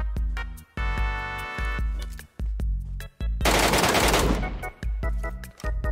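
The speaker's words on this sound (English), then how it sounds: "You were just gonna shoot a whole clip, miss every bullet, and then hide?" Rapid bursts of automatic gunfire from PUBG Metro Royale, loud and close, in short rhythmic volleys separated by brief gaps, with one longer, noisier stretch of sustained firing midway.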